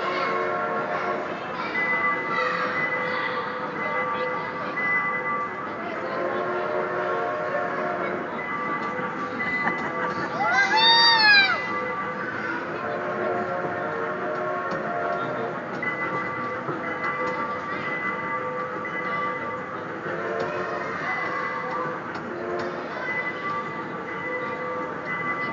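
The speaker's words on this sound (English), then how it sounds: "Are you riding the train, honey?" A small ride-on train at West Town Mall rolling along with a steady mechanical rumble and tonal whine, a brief bell or whistle-like tone sounding near the middle, with faint voices in the background.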